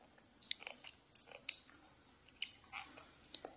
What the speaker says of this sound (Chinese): 拿到骨头啃